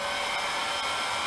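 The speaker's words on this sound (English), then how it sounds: "Using a heat gun on low, the front section of the A-frame is heated" A heat gun on its low setting warms the front strut of a HeadUp neck collar's A-frame, giving a steady, close, continuous blowing whoosh with an even hiss throughout and no voices.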